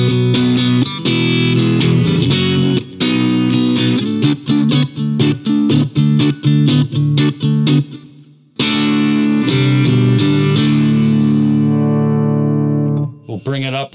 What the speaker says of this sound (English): When was the last time you heard a P90 sound like this?